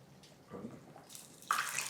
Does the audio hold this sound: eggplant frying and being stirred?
no